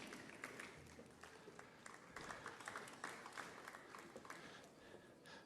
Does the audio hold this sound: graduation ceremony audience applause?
yes